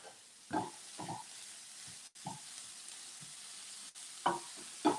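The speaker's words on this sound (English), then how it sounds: "I'm only agitating them now just so I can get them to cool a little bit quicker." Warm vegetables stirred in a pan while cooling off the heat give short, intermittent bursts of scraping and clatter over a faint steady sizzle, with quiet gaps between strokes.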